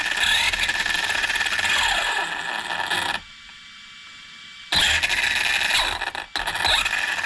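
Team Corally Kronos XP 6S RC car motor given quick throttle squeezes, producing bursts of high-pitched whirring and mechanical scraping that cut out for a moment of near-silence before revving again.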